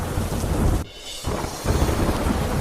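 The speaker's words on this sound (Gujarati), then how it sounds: "નવસારીમાં જામ્યો વરસાદી માહોલ" Heavy rain falls in Navsari, Gujarat, as a dense, steady roar of noise, briefly cut off once before resuming, with no voices.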